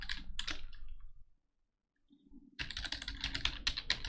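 Typing on a computer keyboard, close and quiet: a rapid burst of key clicks, a pause of near silence, then a denser run of clattering keystrokes.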